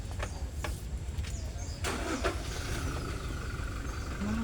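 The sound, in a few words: motorcycle engine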